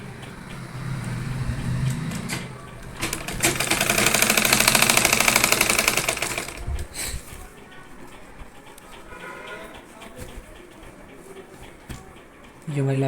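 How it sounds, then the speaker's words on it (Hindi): Sewing machine stitching elastic onto a saree belt, a loud mechanical running burst around the middle that dies back to quieter handling and light background noise. "इस तरह से खींच के सिलाई लगाएंगे यहाँ पे।"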